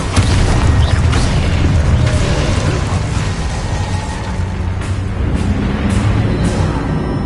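Confringo and Expulso spell blasts in the Hogwarts Legacy video game: loud, continuous explosive booms with crackling bursts and repeated sharp impacts, dense and close throughout.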